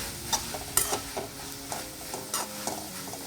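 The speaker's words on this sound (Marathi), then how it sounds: "आता आपण याच्यामध्ये वरतून कोथिंबीर घालूया आणि याला मिक्स करून घ्यायचं आहे" Spoon stirring cooked chikhur sabzi in a pan after fresh coriander goes in, a series of close scraping strokes over a faint sizzle, no talking.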